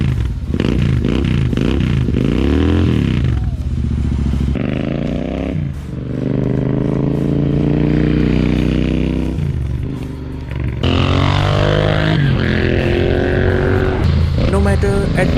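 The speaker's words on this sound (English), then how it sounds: "as this one is equipped with an aftermarket exhaust from AEW India, it creates an utter symphony" A Royal Enfield Continental GT 650 parallel-twin with an AEW aftermarket exhaust revs hard through several gears, a loud, raspy exhaust note rising and dropping with each shift, up close and continuous.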